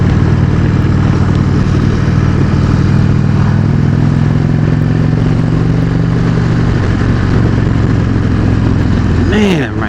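An Indian Chieftain motorcycle rumbles steadily on a demo ride, its engine drone loud and constant under heavy wind, close to the rider throughout.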